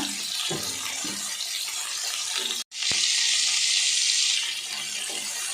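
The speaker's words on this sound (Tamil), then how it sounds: "இதை ஒரு மூடி போட்டு ஒரு 5 நிமிஷம் நல்லா கத்திரிக்காய் வதங்கட்டும்" Brinjal (eggplant) sautéing in oil in a covered pan, a steady close hiss with a brief dropout midway, after which a brighter, louder sizzle resumes and runs on alone.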